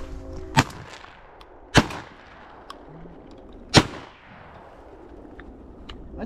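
Gunshots fired while hunting outdoors, three sharp, loud reports spaced a second or two apart, each with a brief echoing tail over a quiet background.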